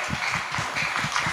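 Audience applause at an international class teaching event, a steady wash of many hands clapping close by, continuous and moderately loud through the short stretch with no talk over it.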